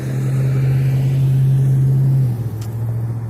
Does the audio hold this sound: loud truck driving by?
yes